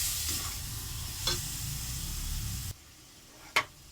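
Soybean chunks and potatoes with spices sizzle and fry in a pan, a steady hissing sauté with a couple of brief stirring clinks, fading quieter near the end.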